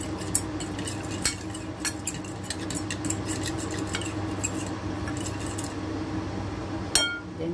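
Okoy batter with grated kalabasa (squash) is mixed in a bowl, a utensil clinking and scraping against the sides in a quick, steady rhythm, close and fairly loud, with a sharper clatter near the end.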